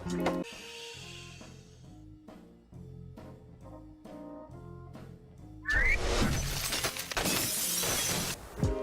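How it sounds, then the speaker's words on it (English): A glass window shatters, set off by the mutant Banshee's voice: a steady, pulsing tone runs first, then a sudden loud crash of breaking glass and scattering shards that lasts several seconds. "Banshee, one of the many mutants, breaking a glass window with the sound of his voice"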